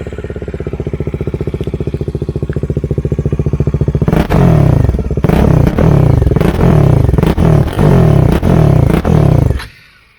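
Kawasaki Dominar 400 motorcycle engine idling steadily, then revved hard in a series of loud, close blips before cutting off near the end.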